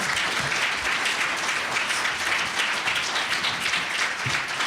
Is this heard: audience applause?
yes